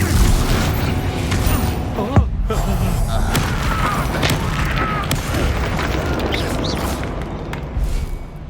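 Confringo fire-blast spell bursting in the Hogwarts Legacy game, heard as a dense, continuous rumble of combat booms and impacts over a busy battle soundscape, with one sharper burst standing out early.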